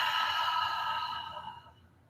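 A single long, breathy exhale during a Kundalini yoga breathing exercise, close and steady at first, then slowly fading away to silence over about two seconds.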